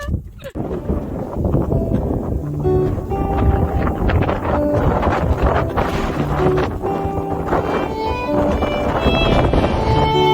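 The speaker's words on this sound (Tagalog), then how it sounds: "sobrang lakas ng hangin" Steady, loud wind buffeting the microphone at the Cabog Cabog view deck in Bataan, Philippines, a constant rushing roar with faint background activity.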